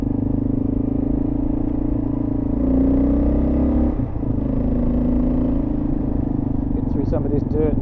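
Steady engine drone of a KLR650 or DR650 dual-sport motorcycle on fresh Shinko D606 tires, loud and continuous with a brief rise in pitch midway, wind and road noise throughout.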